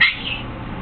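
A pet conure parrot gives one short sharp squawk at the start, then the sound drops to quiet room background.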